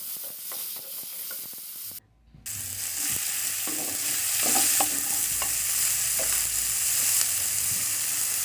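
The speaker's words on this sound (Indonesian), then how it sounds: "lalu kita masukkan ayamnya dan ini kita masak sampai ayamnya mengeluarkan kaldu dan berwarna" Chicken pieces frying with onions in a pot, a loud, steady sizzle with stirring scrapes and clunks, broken by a short quiet gap before the frying swells again close up.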